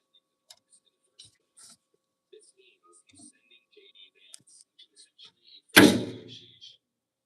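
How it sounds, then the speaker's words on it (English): Door of a GE GTW220ACW0WW top-load washer opened once near the end, a single loud clunk with a short rattling tail after quiet ticking and soft faint background sounds. "I have to actually open the door to stop that thing."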